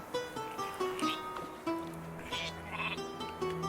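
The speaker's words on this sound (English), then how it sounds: "Why are there so many sheep?" Sheep bleat repeatedly in the Northgard video game, several overlapping wavering calls rising and falling over a steady ambient game backdrop, fairly close and clear with no talking.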